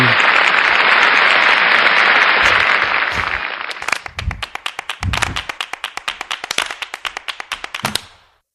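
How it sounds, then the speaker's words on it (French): Dense audience applause fills the first few seconds, then thins into a rhythmic series of sharp individual claps that stop abruptly, loud and close. "encore un tonnerre d'applaudissements pour son neurone"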